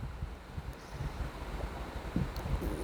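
Strong gusty wind blowing in open air ahead of a storm, a steady low rumble with buffeting microphone noise and no speech, loud and continuous throughout.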